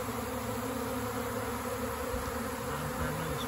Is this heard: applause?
no